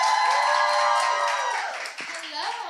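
Concert audience applauding and cheering for a pop singer at a live hits show, a dense wash of clapping that fades toward the end as a voice begins speaking.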